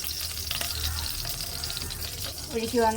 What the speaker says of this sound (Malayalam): ഈ നല്ലതുപോലെ ചൂടായിട്ടുണ്ട് ഇനി ഈ കപ്പയ്ക്ക് ഒഴിച്ചു കൊടുക്കും